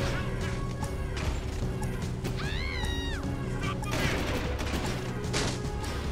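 Rapid gunfire in the Jak II action game, a steady stream of shots running under busy game music and effects, with a rising whine partway through.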